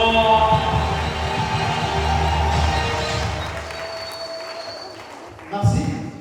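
A crowd cheers and applauds at a community event in Butembo, with a broad sustained wash of clapping and voices that fades, then swells briefly again near the end.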